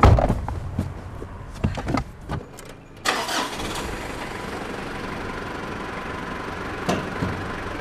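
A car engine cranks and catches, a few starter bursts then a steady idle, loud and close, with a door clunk near the start.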